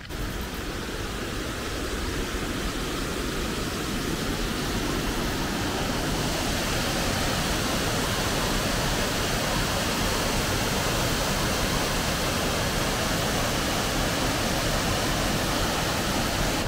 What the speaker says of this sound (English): I can hear the water already though.